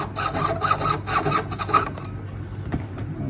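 A saw cuts silver stock for a wedding band with quick back-and-forth strokes, rhythmic and close, the rasping strokes growing softer and less regular toward the end.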